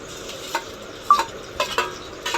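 Gongura leaves frying in a pan with roasted tempering seeds, giving a soft continuous sizzle broken by a few light stirring scrapes and taps, close and fairly quiet, with no talking.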